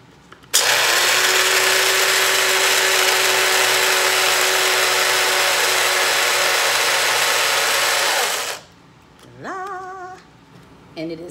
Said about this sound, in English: So let me grind this. It's loud, but let me grind it.